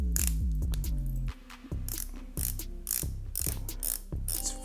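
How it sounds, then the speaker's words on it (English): Rotating bezel on a prototype Harrow Nauticus dive watch turned by hand, a quick run of sharp ratchet clicks, then a pause and further spaced bursts of crisp clicks, very close with no voices. "Let's listen to that bezel."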